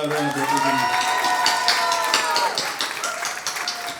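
An audience at a family reunion gathering at Dass Continental in Thrissur applauds in a rolling round of clapping mixed with raised voices and cheers, fairly loud and sustained before easing off slightly toward the end.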